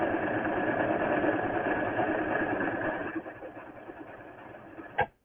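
A simple sewing machine runs steadily for about three seconds, its motor whirring as fabric feeds through. It then slows and stops, ending with a single sharp clunk.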